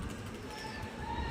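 A small sparrow-like bird of unknown species, visiting a home to feed, gives faint, thin high calls over a steady, noisy background.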